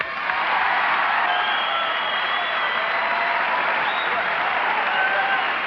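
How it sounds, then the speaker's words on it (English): Steady audience applause fills the room at a stand-up comedy show, dense and continuous from start to finish with no pauses. "you don't have to applaud"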